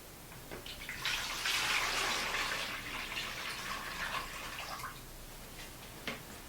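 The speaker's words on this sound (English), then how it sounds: "remove the lid, you fill it full of water" Water from a faucet pours into the reservoir of an EverGreen Christmas tree watering helper, a steady hissing gush lasting several seconds before tapering off, close and fairly quiet.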